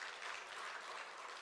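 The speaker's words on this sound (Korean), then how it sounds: "하나님께 박수" Faint, distant applause from a church congregation rises briefly during a worship service, a soft wash of clapping that stays low and even for a moment.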